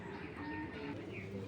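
Racing pigeons in a loft coo softly in a brief, low murmur, faint against quiet background noise.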